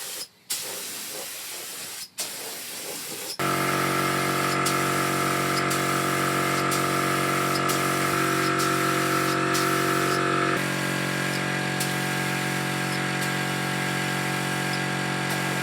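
A paint spray gun with a 2.5mm nozzle applies thick, unthinned 3-in-1 paint to the chassis frame of an Iveco VM90 truck. It gives a loud, continuous, steady hiss that starts abruptly after a few quiet seconds and runs on uninterrupted.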